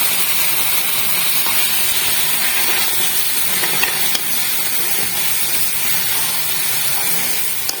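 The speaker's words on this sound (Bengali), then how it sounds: "একটু আদা রসুন বাটা অ্যাড করব, এবার সব কিছু অল্প জল দিয়ে আমি করতে থাকবো।" Ginger-garlic paste and spices cook in a pan with a little water for an oil-free pumpkin dish, giving a steady, even hiss and sizzle throughout with no talking.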